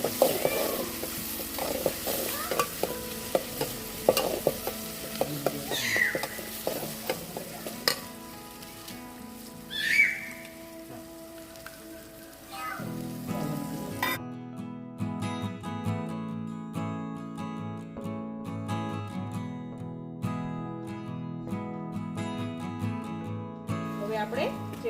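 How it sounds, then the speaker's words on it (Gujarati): Khichdi tempering sizzles in hot oil in a Kathiawadi village cooking setting, with a spoon scraping and clattering against the pot in irregular bursts before steady music takes over the second half. "તો તમે જોઈ શકો છો મસ્ત વઘાર થઈ ગયો છે આપણી ખીચડીનો"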